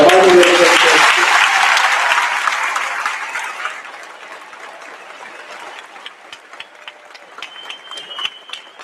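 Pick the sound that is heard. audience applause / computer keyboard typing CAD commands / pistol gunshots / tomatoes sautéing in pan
audience applause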